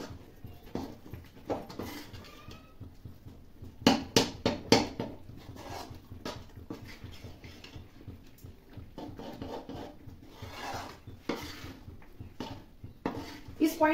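Chana dal halwa being mashed in a cooking pot, with a utensil knocking and scraping against the pot in irregular, fairly close clanks amid softer stirring noises.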